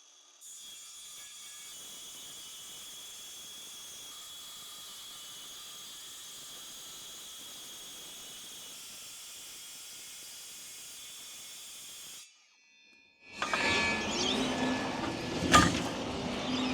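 Circular saw cutting wood outdoors on grass: a long, steady high whine with hiss for about twelve seconds, a brief drop, then a louder, rougher burst of noise at the end.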